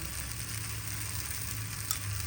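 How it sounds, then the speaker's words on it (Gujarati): Tomatoes, chillies and garlic roast in a hot pan with a steady, close sizzle and a soft crackle, continuous throughout with no talking. "ટમેટા સરસ શેકાઈ ગયા છે મરચાં સરસ શેકાઈ ગયા છે લસણ શેકાઈ ગયું છે"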